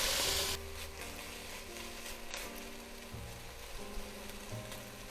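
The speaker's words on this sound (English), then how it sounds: "we'll just add our meat in a couple batches so we don't overcrowd the pan" Meat browning in batches in a hot frying pan for a goulash-style dinner, giving a steady, moderately loud sizzle that runs the whole time after a brief louder burst at the start, with no talking.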